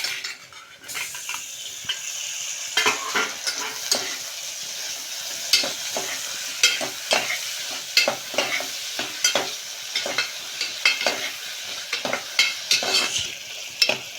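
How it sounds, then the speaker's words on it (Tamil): Tomatoes stirred into onions frying in a pan for vegetable biryani, with a steady sizzle and repeated scraping strokes of a spoon against the pan, close and fairly loud, no talk. "இந்த ஸ்டேஜில் நம்ம இந்த தக்காளியை சேர்த்துக்கிறோம்"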